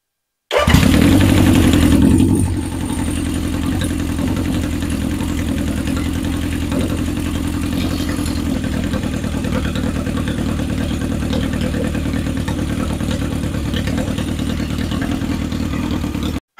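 A 1977 Honda CB750 chopper motorcycle engine kicks into life with a loud burst, then settles into a steady, even idle that runs close and alone for the rest of the clip.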